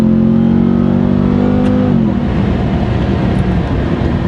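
A Ram TRX Ignition Edition truck's engine revs loud and close, a sustained rising roar that drops off sharply into a rough idle rumble partway through.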